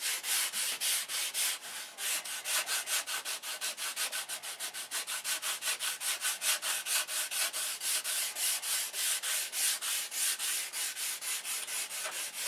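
A soft sanding block with 150 grit paper rubs back and forth over car bodywork in a steady, rapid rhythm of raspy strokes, close and continuous with no talking.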